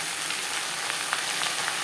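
Jute leaves fry in hot oil with garlic, giving a steady, close sizzle with soft crackles and light stirring noises throughout.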